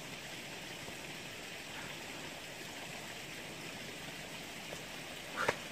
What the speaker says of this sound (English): Look at that creek, though.